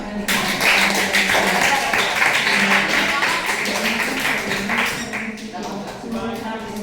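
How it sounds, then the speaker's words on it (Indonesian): A classroom of students claps together during a geography lesson: dense, steady applause that fills the whole stretch and tapers slightly near the end. "Berikan tepuk tangan."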